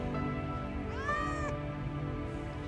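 A cat meows once in the video game Final Fantasy 7 Remake, a single clear rising-and-falling mew over a steady background hum of game ambience.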